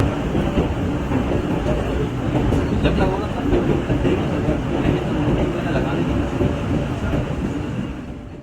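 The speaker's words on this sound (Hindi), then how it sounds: "थर्टीन अप अवाम एक्सप्रेस लांडी 1 मिनट ताख़ीर से पहुंची" The Awam Express passenger train pulls into Landhi station with a steady, loud rumble of wheels and carriages that continues without a break, overlaid by faint clatter and a distant voice.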